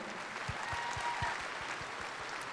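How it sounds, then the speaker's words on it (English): Graduating students at a 2019 Topeka West graduation ceremony receive applause: a faint, distant patter of clapping from the crowd, steady throughout, with a few sharper claps standing out. "We applaud you and say congratulations."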